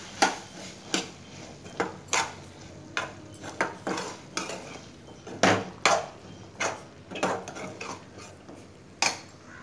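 Chickpea sundal with grated coconut and coriander being stirred in a metal pan, a series of sharp spoon scrapes and clinks at an irregular, brisk rhythm, close and fairly quiet with no talking.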